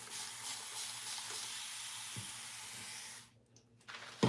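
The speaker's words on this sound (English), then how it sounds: "we're gonna wet the shampoo bar real quick" Water runs in a close, steady hiss to wet a shampoo bar, then stops abruptly, leaving a quiet gap before a few small handling knocks.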